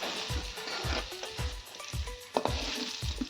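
Potatoes and eggplant frying in hot oil make a steady, close sizzle, broken by repeated soft thumps and scrapes as the pieces are turned or lifted, with no talking.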